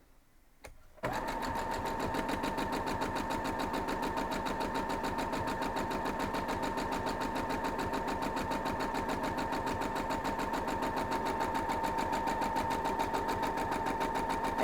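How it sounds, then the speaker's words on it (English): A sewing machine stitches quilt block pieces together, starting after a brief quiet moment and then running in a fast, steady, even rhythm, close and clear, with no talk. "So we're going to go ahead and sew it."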